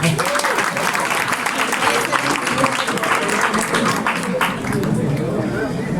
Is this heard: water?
no